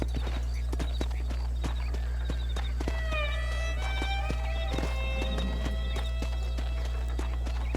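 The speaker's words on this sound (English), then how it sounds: "É uma carreta a cavalo." Horse hooves clip-clop steadily beneath a horse-drawn cart in the video game Red Dead Redemption, a loud continuous low hum underneath and whinny-like tonal calls rising in the middle.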